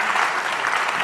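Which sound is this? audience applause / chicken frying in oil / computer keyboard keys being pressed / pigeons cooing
audience applause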